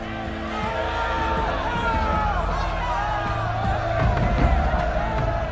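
A large crowd cheering and shouting together, a dense, continuous roar of many voices at steady loudness that swells slightly near the end.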